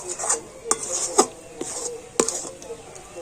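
A thick coconut mixture with ghee is stirred in a pan over low heat, giving repeated scraping and rubbing strokes with sharp clicks of the spoon against the pan, close and fairly loud.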